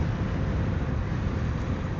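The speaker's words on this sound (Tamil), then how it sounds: "பயங்கரமாக காற்றடிக்குது." A strong wind roars across the microphone on a highway during an electric unicycle ride, a dense continuous rumble with no break over two seconds.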